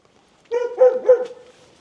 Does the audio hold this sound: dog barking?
yes